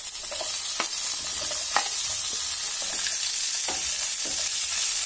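Onions fry in an Indian-style pan of golden-browned spices for a matar methi malai curry, giving a steady close sizzle with occasional soft stirring scrapes and clinks, and no voices.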